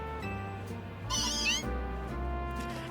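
Meowth, the Scratch Cat Pokémon in Pokémon Legends Z-A, gives a single bright rising meow midway through, loud and close over a sustained hum of game music.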